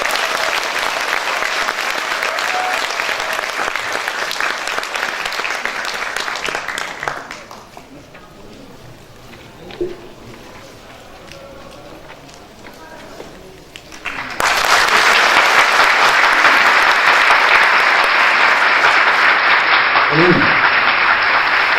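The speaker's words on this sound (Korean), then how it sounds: "김영택 회장님을 모두 힘찬 박수로 맞아주시기 바랍니다." A large audience at a Korean patriotic veterans' forum gives loud, dense applause to welcome a chairman, dropping to a quieter murmuring lull in the middle, then surging back even louder and fuller.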